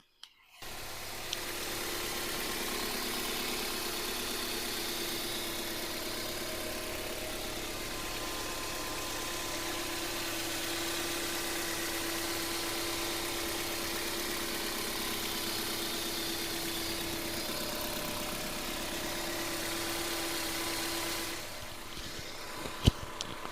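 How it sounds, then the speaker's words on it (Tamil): A 2003 Toyota Corolla petrol engine idles steadily up close, a smooth, even hum with a faint rhythmic vibration, starting and ending abruptly. "இப்போ இந்த வண்டியோட இன்ஜின் சவுண்ட் எப்படி இருக்குது"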